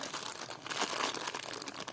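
Continuous crinkling and rustling of paper as a parcel of vintage jewelry is unwrapped, close and fairly loud, with no pauses.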